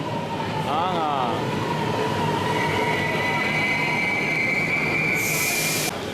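A train pulls into a station on the way to Milan, a steady loud rumble of rolling stock with rising wheel squeal and screech tones, a brief hiss near the end; voices murmur faintly underneath.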